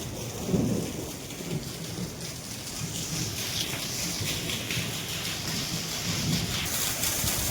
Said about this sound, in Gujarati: કડાકા કડાકા સાથે અવાજ પણ સાંભળી રહ્યા છો